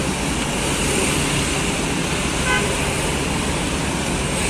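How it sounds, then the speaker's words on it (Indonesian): A convoy of tour buses passing on a road, with a steady, loud roar of engines and road traffic. A brief horn-like tone sounds midway, and nobody talks. "dari arah Jombang lagi wah konvoi bus pariwisata"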